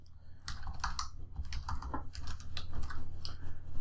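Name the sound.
typing name and password on a computer keyboard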